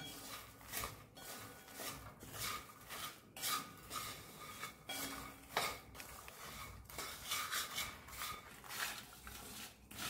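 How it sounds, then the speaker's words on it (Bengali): Makhana is tossed in a bowl with salt, turmeric, chilli powder, chaat masala and a little oil. A spoon clinks and scrapes against the bowl in quiet, repeated strokes, close by and fairly soft. "এই মশলাটা এর মধ্যে মাখানার গায়ে এটা মিশিয়ে নিলাম"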